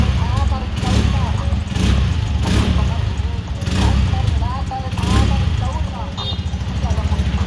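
Motorcycle fitted with a modified spring exhaust pipe, revved hard several times during a sound check, loud, close bursts of engine roar that rise and fall, with voices talking over it.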